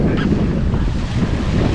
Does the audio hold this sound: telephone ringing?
no